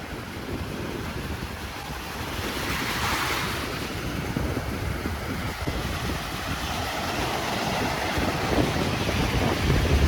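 Sea waves washing onto the beach at Calicut (Kozhikode) in the evening, a continuous loud roar of surf mixed with wind buffeting the microphone, with no talk.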